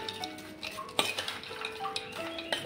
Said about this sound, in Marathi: आता आपण ही मिक्स करून घेणार आहोत।